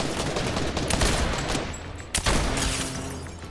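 Dense, rapid gunfire from a video game fills a short stretch, a continuous loud rattle of overlapping shots with a brief sharp burst near the end.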